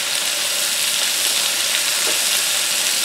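Onions and carrots sauté in a hot pan for beef bourguignon, making a loud, steady, close-up sizzle and hiss with no voices.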